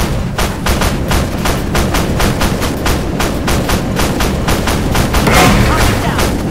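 Rapid bursts of heavy autoloader tank cannon fire in the video game Armored Warfare repeat in a steady rhythm over a dense rumbling background, loud and close throughout.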